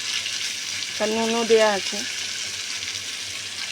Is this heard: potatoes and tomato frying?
yes